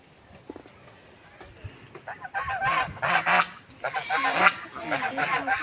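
Domestic geese honk in loud, repeated bursts at close range, the calls growing busier and overlapping toward the end, with voices and rustling beneath them.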